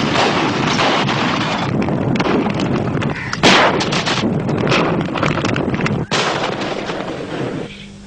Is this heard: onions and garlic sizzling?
no